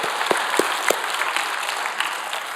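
A church congregation at a Sunday worship service claps together, a steady wash of applause with a few sharp, louder claps near the start.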